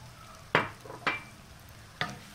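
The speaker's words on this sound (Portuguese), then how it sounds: "Vamos refogar bem." Rice and dried salted beef sauté in clarified butter in a pot, with three sharp stirring scrapes and clinks over a soft background sizzle.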